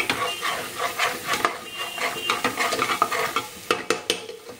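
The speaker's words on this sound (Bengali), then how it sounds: "সব রকম মশলা দেখো আমার দেয়া হয়ে গেছে, খুব ভালো করে এটাকে কষিয়ে নিচ্ছি।" A ground spice paste with turmeric, chilli and coriander powders for chicken is sautéed in a pan, with constant sizzling under rapid, rhythmic scraping strokes of a spoon, loud and close with no talking.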